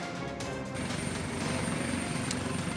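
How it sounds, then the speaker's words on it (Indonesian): Caracal military helicopter of the Indonesian Air Force, its rotor and turbine making a steady, loud, continuous roar throughout with no voices. "Tim SAR mengerahkan sejumlah personel dengan menggunakan 1 helikopter jenis Karakal milik TNI Angkatan Udara"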